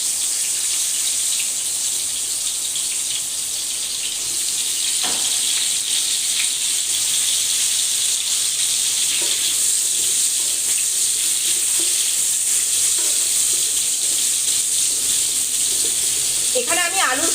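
Potatoes and pointed gourd fry in a pan, a loud, continuous bright sizzle throughout, with a few clinks and scrapes of a spatula and occasional splashy bursts.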